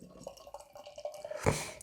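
Serpents, a double IPA from Badlands Brewing Company and Messorem, poured into a glass: a quiet run of soft dripping, splashing liquid that swells into a brief fuller gush near the end, with no talking.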